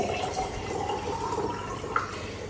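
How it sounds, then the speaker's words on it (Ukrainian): Water is poured into satsebeli sauce made with a little sour cream, a steady gurgling splash that runs continuously at moderate loudness with no voices. "В сацебелі наливаю тако води"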